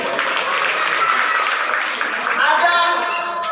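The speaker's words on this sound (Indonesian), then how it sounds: "Ya, tepuk tangan dulu." Audience at a Christmas celebration service clapping together, a sustained round of hand claps with some voices mixed in beneath.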